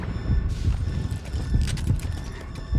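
A horse gallops in the Metal Gear Solid V video game, with rapid, rhythmic hoofbeats thudding low and close, and a few creaks and mechanical clicks mixed in.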